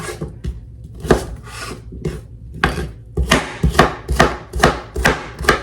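Beets being cut into bite-sized pieces with a knife: a run of sharp chopping strikes, sparse at first and then a steady rhythm of about a dozen crisp cuts against a board, close and fairly loud, no talking.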